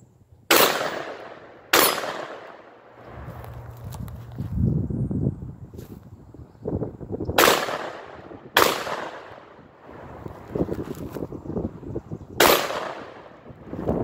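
A Beretta 1301 tactical semi-auto shotgun fired one-handed lets off five loud, sharp blasts in uneven pairs, each with a ringing tail, separated by shuffling and handling noises.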